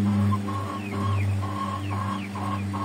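A Shamo rooster gives a series of short, hoarse, repeated calls over a steady low hum, close and fairly loud, with brief gaps between each burst.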